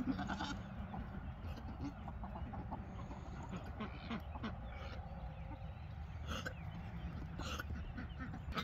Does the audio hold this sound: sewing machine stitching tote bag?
no